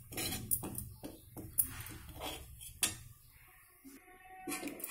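Dry fruits being roasted and stirred in a pan for laddus, with repeated metallic scrapes and clinks of a spoon against the pan at an irregular rhythm, close and moderately loud, no talking.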